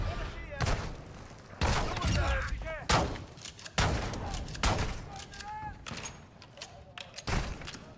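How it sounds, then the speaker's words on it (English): Heavy gunfire aimed at the player during a solo match of the video game DMZ, with loud repeated bursts and booming shots spaced a second or so apart while someone talks over them. "who's shooting me?"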